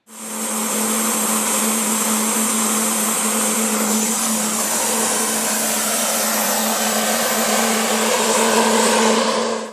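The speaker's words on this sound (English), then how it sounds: "I give a little throttle, and we'll do a little bit of a throttle noise right now" A small jet engine runs at a steady, loud, high-pitched whine with a strong constant tone and broad rushing hiss, throttled up a little and held for nearly ten seconds with no talking.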